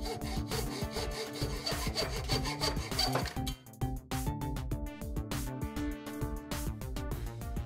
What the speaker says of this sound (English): Clamp down the potentiometer and, using a hacksaw, cut it on the marked line.